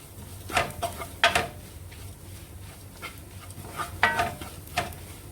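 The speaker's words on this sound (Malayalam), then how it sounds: "മഞ്ഞൾപ്പൊടിയുടെ പച്ചമണം മാറുന്ന വരെ ഒന്ന് വഴറ്റി കൊടുക്കാം" Grated coconut with turmeric powder is stirred in a pan over heat, with a few sharp spoon scrapes and clinks against the metal over a faint, low sizzle, spaced irregularly and fairly close.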